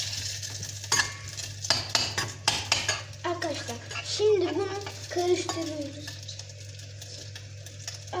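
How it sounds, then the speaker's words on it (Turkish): Homemade sausage mixture is stirred in a metal bowl or pot, with clinking utensil taps and scraping, while voices talk intermittently over a steady background hum. "Arkadaşlar şimdi bunu karıştırıyoruz"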